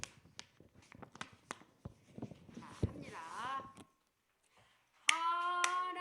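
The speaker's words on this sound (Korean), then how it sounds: "손은 뭐 하라고? 찬양할 때 손뼉 치라고." Hand claps ring out in a church worship service, a scattered run of sharp claps under a speaking voice, followed by a few seconds of quiet, then a sustained sung tone.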